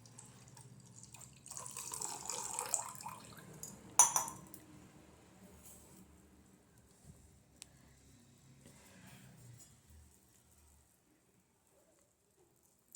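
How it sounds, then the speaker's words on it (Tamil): Boiled milk pours into a palm jaggery tea decoction in a soft liquid stream, with a clink of a vessel partway through, then the pour tapers off into quiet. "நல்லா காய்ச்சி ஆறின பாலை எடுத்து அந்த"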